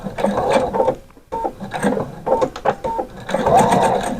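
A sewing machine stitching a backstitch on a skirt, rapid mechanical chattering in short runs broken by brief pauses, close and clear with no talk over it.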